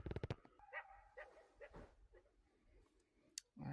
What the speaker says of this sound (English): That's either a dog or a coyote.